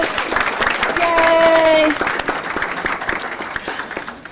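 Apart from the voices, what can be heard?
round of applause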